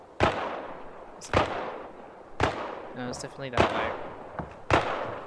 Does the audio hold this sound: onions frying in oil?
no